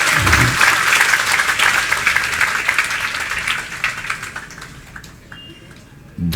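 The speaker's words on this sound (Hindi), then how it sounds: "ताली बजाते जाओ अपने लिए।" An audience at a religious discourse bursts into dense, loud applause that gradually thins and fades over several seconds to scattered claps, with a brief swell again at the end.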